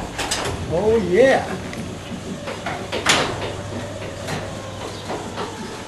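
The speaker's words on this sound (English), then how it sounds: "let's try the garage door" A garage door opened by remote runs with a steady mechanical hum and faint rattling clicks, with a continuous motor drone through the second half, while a person speaks briefly near the start.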